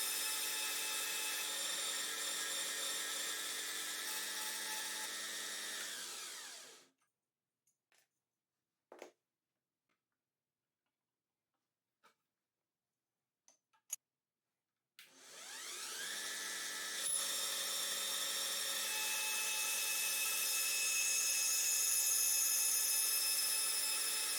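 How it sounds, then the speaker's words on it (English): A tiny tabletop bandsaw cutting a thin-walled profile gives a loud, close, harmonic whine. It stops for several seconds of near silence with a few small clicks, then starts up again. "The saw also has no trouble with a thin-walled profile."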